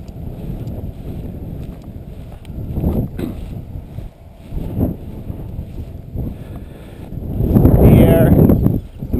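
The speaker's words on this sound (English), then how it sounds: "You can tell I got pretty strong wind, so it can be a little tricky for the dogs on scenting." Strong outdoor wind buffets the microphone in rumbling gusts that swell and fade, loudest near the end, with a voice faintly present underneath.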